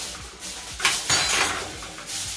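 A metal grill pan is handled and taken apart in a kitchen, giving close rattles, clanks and scraping clatter in a few bursts, with brief pauses between.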